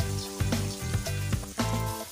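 Finely chopped onions added to hot oil with pounded ginger, garlic and green chili for an okra curry, a loud close sizzle with stirring clatter throughout.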